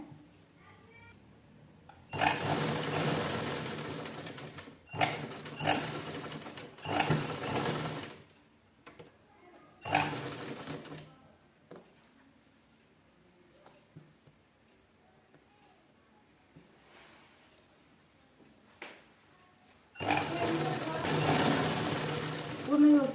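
A sewing machine stitches the sleeve of a velvet blouse in three loud, steady whirring runs separated by pauses, with someone talking quietly between the stitching.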